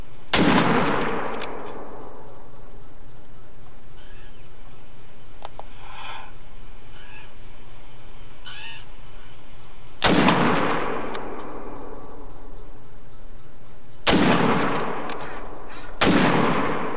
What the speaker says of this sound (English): Shoot that caribou.